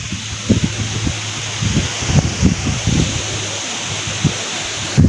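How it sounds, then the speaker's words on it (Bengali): Steady broadband wind noise with repeated low gusty thumps against the microphone as a Kalbaishakhi storm blows through mango trees, with no voices. "কি পরিমাণ বাতাস, যেটা বলে বোঝানো যাবে না"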